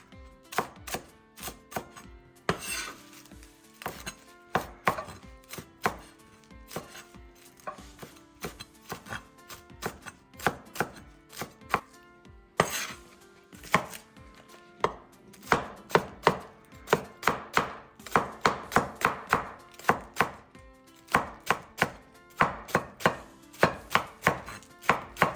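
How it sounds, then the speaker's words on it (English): A knife chops fresh mint leaves on a board for Lao tuna laab, a long run of close, rapid, uneven knocks that speed into dense bursts, with no one talking. "Slicing the mint"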